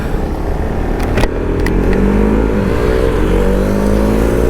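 A motorcycle on a group ride, its clutch plate apparently worn, revs loudly and close, the engine note climbing steadily over a rough rumble with wind noise and a couple of sharp clicks.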